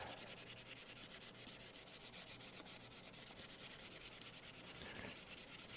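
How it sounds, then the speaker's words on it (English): Sandpaper rubs by hand across a natural-edge maple burl bowl on a lathe with its spindle locked, in quick, even back-and-forth strokes that are soft and close. "in the area right here that I need to sand by hand, I can't sand with the lathe running"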